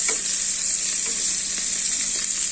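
Onion sizzles loudly in cooking oil for a pork and shrimp pakbet, a dense, hissing, continuous fry heard close with faint stirring underneath and no speech.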